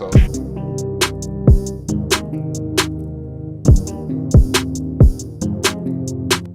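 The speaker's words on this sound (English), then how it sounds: "So the bass it sounds like this right here right now." Deep 808 bass notes with pitch-gliding drops, layered under sharp hi-hat and snare hits in a steady programmed beat, loud and close.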